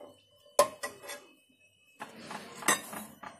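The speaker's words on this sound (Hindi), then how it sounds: "थोड़े से चने हम एक बाउल में निकालेंगे।" Boiled chickpeas being scooped from a pressure cooker into a bowl, heard as a few sharp metallic clinks and scrapes of a spoon against the pot and bowl, with soft handling noises between, fairly quiet and close.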